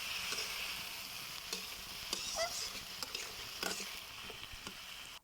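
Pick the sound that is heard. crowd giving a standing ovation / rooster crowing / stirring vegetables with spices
stirring vegetables with spices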